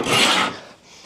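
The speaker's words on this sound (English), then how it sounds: "This is how I would plane, you know, if I was edge planing" A hand plane shaves along the edge of a wooden board in a single stroke, a bright, loud rasping swish that fades quickly into a soft tail. Nothing else is audible.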